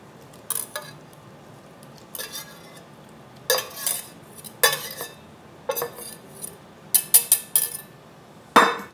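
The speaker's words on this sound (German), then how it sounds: "gebt ihr noch euer Gemüse in die Rührschüssel und rührt auch dieses gut unter." Vegetables being stirred into batter in a mixing bowl for spinach-leek patties: a spoon scrapes and clinks against the bowl in about nine short, separate bursts, close and fairly loud, with no talking.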